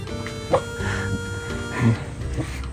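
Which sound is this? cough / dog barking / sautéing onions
dog barking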